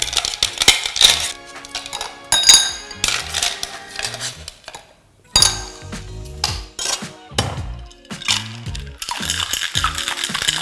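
A cocktail shaker full of ice rattles hard for a mocktail made with green tea, juice and honey water, moving in loud, uneven bursts of clattering ice with short pauses between shakes.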